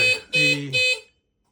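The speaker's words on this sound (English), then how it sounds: "So if I go inside now, it should set off the alarm." A WiTi security alarm in a Jayco caravan, set off by its infrared sensor, blares three loud, harsh buzzing horn blasts in quick succession at close range, then cuts to silence.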